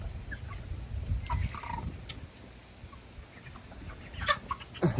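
Young Diva chicks clucking softly near a handler, scattered short peeps and clucks over low rustling, faint and intermittent with a few clearer calls toward the end.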